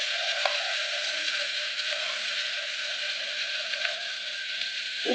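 Masala and onions sautéing in a pan for a Tamil-style chicken gravy, a steady close sizzle and crackle running continuously at a moderate level, with no talk.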